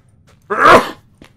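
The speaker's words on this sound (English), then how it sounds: "I'm gonna sneeze any minute." One sharp, close sneeze breaks out abruptly, followed by a faint short sound after a brief pause, against near silence.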